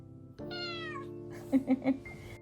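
A cat gives a drawn-out meow followed by three short, rising chirpy meows, close and clear over a faint steady hum.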